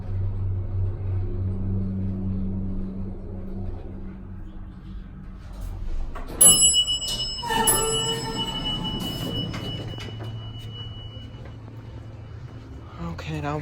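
A Montgomery elevator near the former Nordstrom at Westfield UTC Mall hums with a low steady rumble, then bell-like chimes and clanks ring out midway before the motor drone carries on; voices talk in between.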